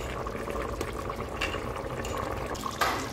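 Jamaican-style brown stew goat simmering in a covered pot, a soft continuous bubbling with faint clinks, quiet and close.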